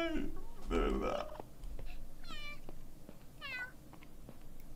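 A person imitates a cat with repeated meows during a Minecraft session, the mews rising and wavering in a few short bursts over background game sound.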